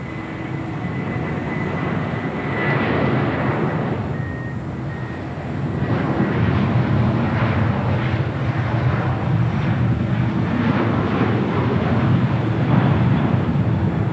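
A jet airliner at Los Angeles International Airport roars steadily from some distance, a broad rumbling engine noise that swells slightly partway through and holds for the whole stretch.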